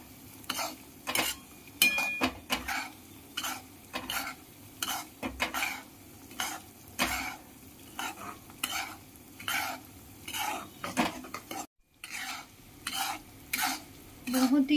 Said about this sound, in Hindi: बहुत ही धीमी फ्लेम पे उसे हिलाते रहना है, अच्छी तरह सेक जाना चाहिए